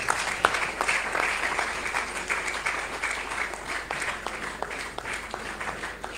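Congregation at a church installation service in Brazzaville applauds steadily, dense continuous clapping filling the room at moderate volume, with faint voices underneath.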